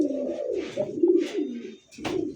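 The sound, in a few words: pair of Rasgolla pigeons cooing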